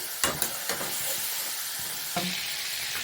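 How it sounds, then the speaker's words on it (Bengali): Bay leaf, chili and garam masala crackle and sizzle in hot oil, a steady loud hiss with a few sharp pops near the start and another burst of spitting partway through. "ওই তেলে আমি তেজপাতা, লঙ্কা আর গরম মশলা ফোড়ন দিয়ে দিচ্ছি।"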